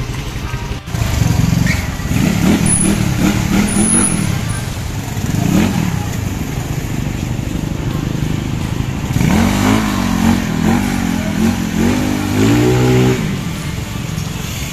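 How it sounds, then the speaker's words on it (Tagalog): A Yamaha Mio 160cc scooter with a racing side setup and BWIN clutch idles close by, then revs in several rising, throaty bursts toward the end. "So pakinggan nyo muna yung tunog ng motor natin dito."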